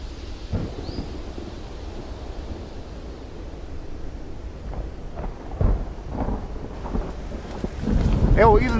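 A sudden thunderstorm near the Drava river brings rumbling thunder over steady rain and gusting wind noise, with louder thunder bursts midway and near the end.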